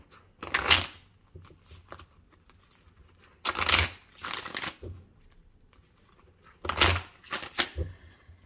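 Indigo oracle cards are shuffled by hand in three crisp, riffling bursts, with quiet pauses between them. Soft card flicks and taps fill the gaps, close and fairly quiet, with no talking.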